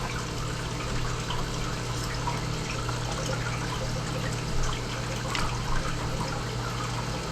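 A green star polyp coral frag is rinsed in water in a Tupperware container, with a steady broad wash of running, trickling water and a low constant hum underneath, no talk.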